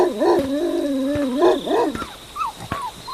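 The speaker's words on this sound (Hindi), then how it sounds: "तभी कहीं दूर से कुत्तों के रोने की आवाज आई।" Mournful dog howls rise and fall in long wavering tones, several voices overlapping, followed by shorter whimpering cries, moderately distant and alone, on a dark rainy night.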